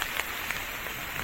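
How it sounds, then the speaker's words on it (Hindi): First rain of the season falling in a steady, even hiss with faint patters, close and continuous through a brief moment, no voices. "आ ही गई बारिश और दोबारा से फिर शुरू हो गई।"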